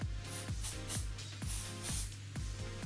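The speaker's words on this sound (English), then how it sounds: "we're just going to finish off the whole look with a good bit of hairspray" Hairspray misted over a finished salon hairstyle: a quick series of short, soft hissing puffs at a regular pace, about two per second, fairly quiet and close, with no talking.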